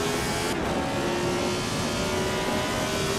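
Lotus 72 race car in Assetto Corsa accelerating hard back on the power, its engine a loud, steady, continuous roar with a sustained tonal drone throughout.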